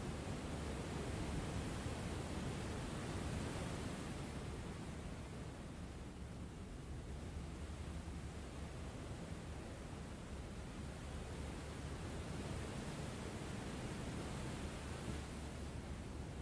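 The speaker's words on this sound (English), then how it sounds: "Listen to the sea." Steady broadband wash of sea waves, a soft continuous roar with gentle surges and no distinct breaks, faint and distant, alone without talk.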